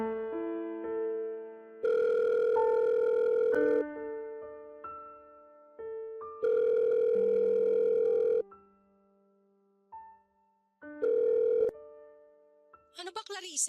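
A telephone rings late at night in three loud bursts of electronic ringing tone, with softer scattered electronic tones in the gaps between rings.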